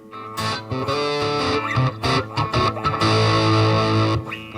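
Distorted electric guitar through a Vox Pathfinder 10 amp with an 8-inch Celestion speaker, saturation set moderate, played as loud sustained chords and riffs throughout with no talking.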